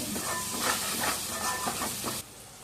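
Coriander and cumin powder frying in oil for a fish curry with fenugreek leaves: a steady, broad hiss and sizzle that holds for about two seconds, then drops abruptly to a quieter hush.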